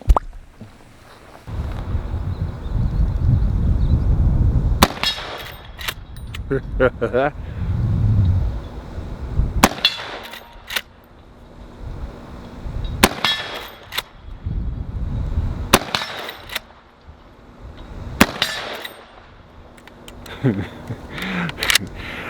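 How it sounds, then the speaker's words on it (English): Big bore rifle shots ring off steel targets in loud, separate cracks spaced a few seconds apart, each with a metallic clang and echo, between stretches of wind and low rumble. "There's nothing like hitting steel with the big bore rifle."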